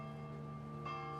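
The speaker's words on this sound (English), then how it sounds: "Now every December 1st at 6:06 p.m., the bells ring." Church bells ringing at a set evening hour, a sustained resonant tone with lingering overtones and a fresh strike near the end, heard alone without talk.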